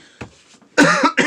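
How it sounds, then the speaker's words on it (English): A short, dry cough, close by: one small catch followed by two harsh bursts. "It's just a dry, itchy feeling in my throat kind of cough."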